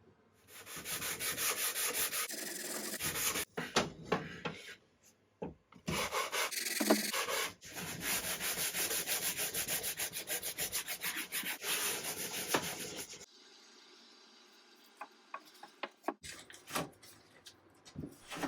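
Wood veneer on a cabinet being sanded by hand: repeated scratchy rubbing strokes in bursts with short pauses, close and fairly loud, ending in lighter scraping and taps.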